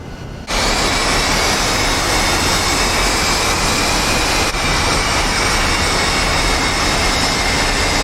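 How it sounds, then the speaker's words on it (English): A 1970s fighter jet in a flight game spools up and roars down the runway, starting abruptly after a brief quiet moment into a loud, sustained high-pitched turbine whine over a dense rushing roar. "Fly, let me get in front of you because I will go faster down the runway"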